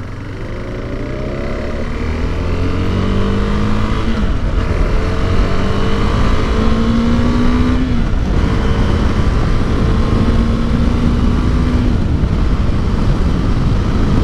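Single-cylinder engine of a 2021 KTM 390 Adventure motorcycle on the move, a steady loud drone with rising and falling pitch as it accelerates and shifts, wind noise throughout.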